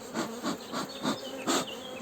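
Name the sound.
honey bees buzzing accepting a Buckfast queen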